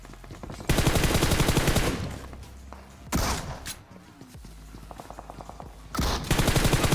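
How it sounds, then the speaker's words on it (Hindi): Gunfire in the battle game PUBG, with rapid automatic bursts and a few single shots, loud and close, separated by quieter stretches of distant game ambience. "साइड से बहुत ही गंदी फायरिंग की साउंड आ रही है मेरे को पुलिस स्टेशन में से"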